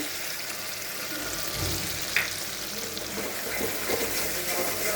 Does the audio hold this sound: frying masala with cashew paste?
yes